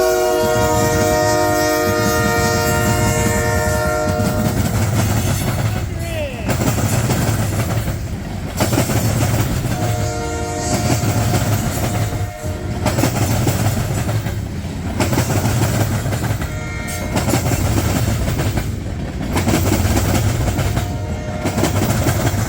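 A short freight train rolls across a road crossing and sounds its horn in long, loud blasts at the start. Steady rumbling and rhythmic clacking of the wheels over the rails continue close by throughout.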